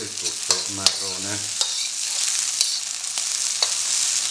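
Late-season radicchio tardivo sizzles steadily in a hot sauté pan, a constant bright frying hiss broken by clattering stirs and tosses and a brief low scraping at the start.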